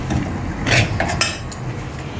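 A spatula scrapes and clatters in a pan while rice flour dough for bhakri is stirred and mixed, producing a few distinct metallic knocks over a steady low background.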